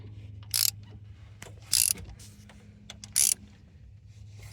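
A ratchet tightens 10mm bolts on the thermostat housing of a 2016 Cadillac Escalade ESV, with four short, loud bursts of rapid clicking spaced about a second apart over a low steady hum.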